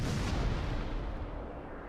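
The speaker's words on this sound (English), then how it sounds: "And there are the cannons." Naval cannons fire from the cruiser Atlanta in the video game World of Warships, a heavy, close boom whose rumbling roar slowly fades over two seconds.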